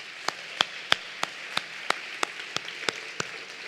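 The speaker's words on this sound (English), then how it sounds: "let's give her a round of applause" Slow, evenly spaced claps ring out one at a time during a charity fundraising speech, sharp but fairly faint, with no voices around them.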